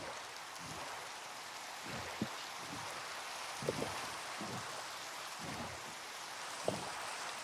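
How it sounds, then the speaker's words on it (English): Steady, faint rain hisses in the Minecraft video game, a soft even wash with a few low thumps of footsteps or movement scattered through it. "It's raining too much."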